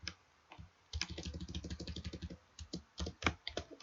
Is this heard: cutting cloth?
no